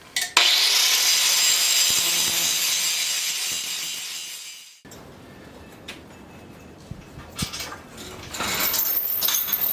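An angle grinder works down weld beads on a steel log arch in two long, loud, hissing passes, with a brief pause and a clatter between them.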